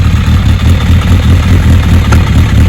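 A 1992 Suzuki GSX1100S motorcycle engine runs at a steady low idle-like drone during a test drive on wet leaves, loud and close throughout, with no talking.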